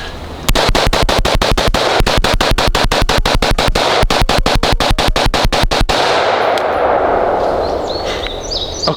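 M16 rifle with an ACOG sight fired in a rapid string of about thirty loud, sharp shots, close and evenly spaced, then stopping abruptly with reverberating outdoor echo fading away.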